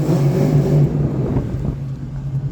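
A car engine droning loudly inside a tunnel, steady and close with a constant low hum and wind-like roar that eases slightly partway through, with no voice heard.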